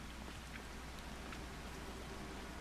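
Steady rain pelts down on a farm in Farming Simulator 25, a constant dense hiss at quiet, even volume with no pauses.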